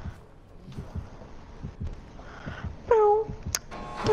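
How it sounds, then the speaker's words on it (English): A steady low thumping heartbeat from a multiplayer video game, pulsing rhythmically through the clip at moderate volume, with a brief electronic chime and whine partway through. "You guys all have the heartbeat."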